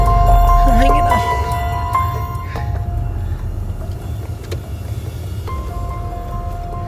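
Steady low rumble of a car driving through a small town, close and continuous from inside the vehicle, with faint tonal hum and occasional light rattles.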